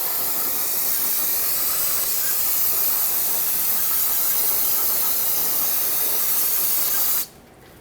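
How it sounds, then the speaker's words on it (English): Brake parts cleaner sprayed onto a rear wheel hub of a 2006-2010 Hyundai Sonata, a loud continuous aerosol hiss lasting about seven seconds before stopping abruptly. "let's rinse it with some brake parts cleaner"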